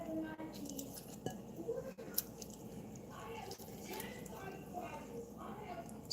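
A kitchen knife cutting and clinking against a board and dishes while preparing a natural cold remedy, with soft taps and scrapes under quiet talk.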